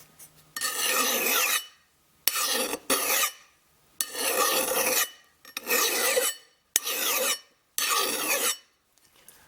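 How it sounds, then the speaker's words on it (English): A metal file rasps in six long, harsh strokes along a Harbor Freight Pittsburgh hatchet, with short pauses between them, close and loud, a gritty scraping against hard steel. "That feel is the file skipping along the much harder material."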